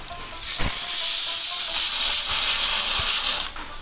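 Sliced onion sizzling in hot oil in a pan for chicken biryani, a steady loud hiss with brief crackles and pops throughout.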